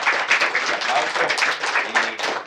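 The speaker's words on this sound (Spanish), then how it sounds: "les voy a pedir que les den un fuerte aplauso" Audience applause at a science talk about fungi, with a brisk, uneven clatter of hands close by and voices mixed into the clapping.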